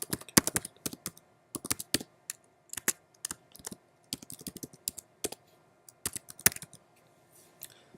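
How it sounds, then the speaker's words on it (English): Computer keyboard typing as an Apple ID is entered, bursts of crisp key clicks in irregular runs with short pauses, close and alone with no talk. "So you're going to type in your Apple ID and your password"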